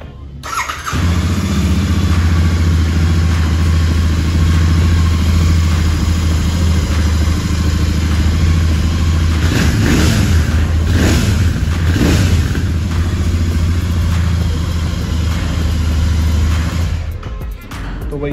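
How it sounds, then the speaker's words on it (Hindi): A Royal Enfield Continental GT 650 motorcycle engine fires up and idles close by with a steady, throbbing rumble, then revs up a couple of times before settling back to idle. "एक बार आपको बाइक की आवाज़ सुना देते स्टार्ट करके"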